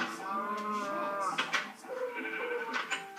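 A cow in a video game lets out drawn-out, bleating moos, heard close and fairly loud in two or three overlapping calls with no talk over them.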